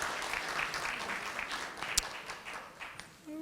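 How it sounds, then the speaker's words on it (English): Audience applause at a community town hall meeting in Jane-Finch, steady moderate clapping from a room of people with one sharp louder clap near the middle, fading slightly at the end. "People can applaud to that."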